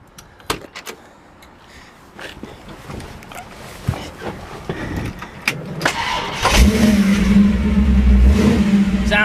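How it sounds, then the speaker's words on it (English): Clicks and clunks from a 1955 Chevrolet Bel Air with a gear-driven engine precede the starter cranking and the V8 catching, settling into a loud, rough, rumbling idle with light revving. "We'll go ahead and fire this bad boy up for you."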